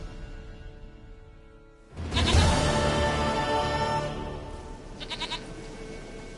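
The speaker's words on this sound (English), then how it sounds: "Goat of mine, dearest, sweetest goat." A goat in The Witcher 3 video game lets out a loud, drawn-out bleat that starts suddenly partway through and lasts a few seconds, then a shorter bleat follows. Before it there is only quiet background, and a single spoken word comes in briefly.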